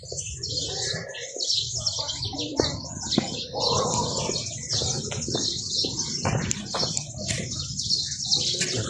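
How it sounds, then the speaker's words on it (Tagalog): Many birds chirp and coo in a dense, continuous chorus at Cagsawa in Camalig, Albay, with wing flaps and a few faint voices mixed in. "Daming ibon."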